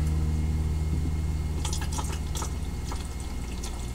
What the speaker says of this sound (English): So we're gonna add a little bit of vinegar